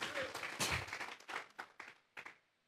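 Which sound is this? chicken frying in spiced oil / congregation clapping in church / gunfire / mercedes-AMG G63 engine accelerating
congregation clapping in church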